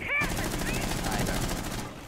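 Rapid automatic gunfire from the video game Rainbow Six Siege rattles in a dense, loud burst of shots lasting about two seconds, close and sharp, with some voice noise mixed in.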